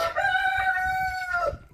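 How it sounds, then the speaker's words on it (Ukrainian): A rooster crows once in a long, clear call lasting over a second, fairly close and loud with no talking, outdoors in the distance from a muddy yard. "О, півень десь співає."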